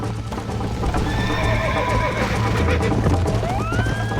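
A horse neighs and hooves clatter in a quick galloping rhythm amid a busy, music-backed scene in the video game Red Dead.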